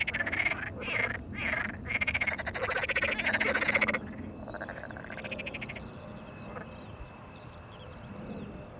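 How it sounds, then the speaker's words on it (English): Frogs croaking near the Polderbaan runway at Schiphol airport on a warm June evening, a loud rhythmic chorus of repeated croaks that thins into scattered calls, with faint birds. "I hear more frogs by the minute."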